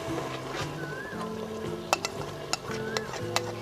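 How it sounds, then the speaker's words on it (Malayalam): Chicken curry with fried onion paste stirred in a kadai, soft continuous scraping and sizzle punctuated by a handful of sharp metallic spoon knocks, over a faint background hum. "നല്ലോണം ഒന്ന് ഇളക്കി കൊടുക്കാം."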